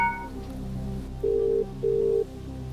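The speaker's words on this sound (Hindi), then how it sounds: "ताया जी को फोन लगाया जाए।" A telephone call being dialed on a quiz show, heard as two short ring tones a moment apart over a low hum of studio background.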